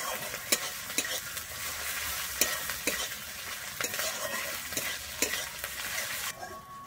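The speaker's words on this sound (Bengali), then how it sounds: "আমি আদাটা দিয়ে আবারও ভালোভাবে আদাটাকে আমি ভেজে নেব" Ground ginger paste frying in a pan with oil, a dense continuous sizzle broken by regular scraping stirs about every half second, close and fairly loud with no talk.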